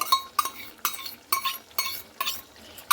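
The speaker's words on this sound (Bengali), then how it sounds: "টক দইটা আমি একটু এইভাবে ফেটিয়ে দিচ্ছি" Sour yogurt whisked in a bowl for a mutton curry, heard as a steady run of quick, bright clinking strokes, roughly two per second, close and alone with no talking.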